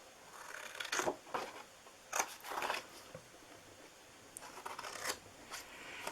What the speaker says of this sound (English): I'm going to get my larger scissors out here, and we're going to cut off